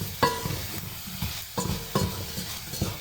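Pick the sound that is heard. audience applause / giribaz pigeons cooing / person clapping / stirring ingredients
stirring ingredients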